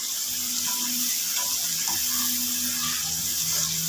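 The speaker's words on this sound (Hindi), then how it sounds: "अब इसमें डाल देंगे, थोड़ा सा पानी डाल देते हैं" Steady running water pours continuously into a cooking pan of guar beans and chicken mince, a broad hissing splash with faint clinks, close and fairly loud.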